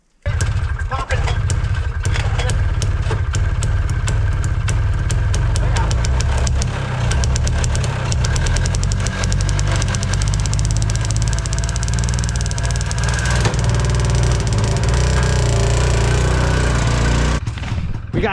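A small pull-start engine, tied open with a piece of grass, catches and runs loud and close, a steady rough idle with rapping knocks that holds for nearly the whole stretch, voices faint beneath it.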